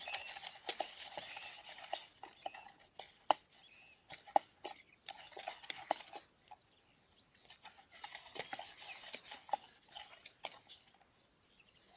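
Herabuna fishing bait dough being mixed by hand in a bowl, making faint, irregular soft slaps and squelches with a few sharper clicks, close but quiet.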